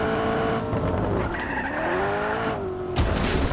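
Fast car skidding in the video game Just Cause 3: loud engine whine with screeching tyres sliding, pitch bending as it drifts, ending in a sharp burst, no voices.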